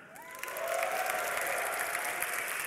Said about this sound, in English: can we get a cheer for the Dream Arena?